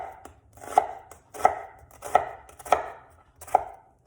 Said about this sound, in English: we're just gonna give this a nice little slice all the way